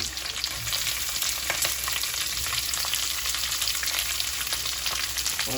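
Onions, curry leaves and red and green chilies frying in oil for mutton curry, a steady, dense sizzle with crackling pops that holds loud and even throughout.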